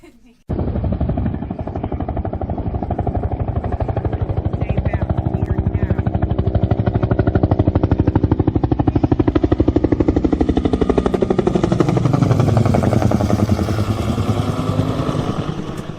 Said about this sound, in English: The helicopter you heard before you would see it, and you knew what it was.